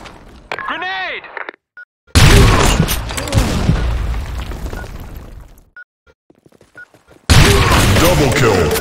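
A grenade goes off in a first-person shooter game in a loud, booming burst followed by crackling gunfire, then another blast rises near the end, with short voiced game callouts in between.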